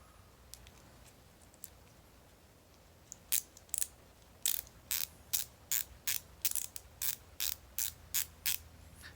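A Gearwrench 120XP ratchet clicking, faint isolated ticks at first, then a fast, regular burst of sharp, close ratcheting clicks in quick rhythmic groups.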